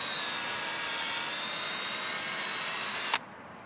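A drill bores into a butternut tree for tapping sap, a steady loud high whine running for about three seconds before stopping abruptly, then quiet.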